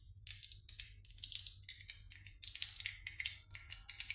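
Mustard seeds pop and crackle in hot oil in a home kitchen, a faint, irregular patter of small sharp snaps over a low steady hum, with no talking.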